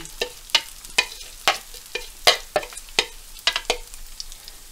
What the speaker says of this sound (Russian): Теперь будем выкладывать свой блин.